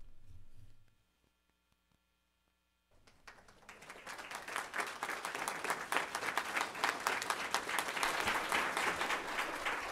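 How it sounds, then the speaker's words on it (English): After a few seconds of near silence with mains hum, applause erupts from the audience at a Fort Bend ISD school board meeting and swells into a loud, steady ovation that lasts to the end. "I'm going to ask that the audience refrain from applauding"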